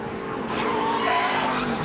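An ARCA Menards Series race car at Mid-Ohio locks its rear brakes, and its tires skid in a loud, steady, broadband screech with engine noise for about two seconds.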